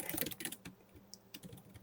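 Fingers tap on a computer keyboard, quiet, irregular clicks in quick bursts with brief pauses, heard close up and alone.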